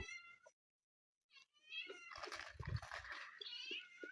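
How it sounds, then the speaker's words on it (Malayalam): A cat meows several times, close and fairly faint, with short gaps between calls and some soft clattering in between. "പൂച്ചയാർന്ന് കരയുന്നുണ്ടേ"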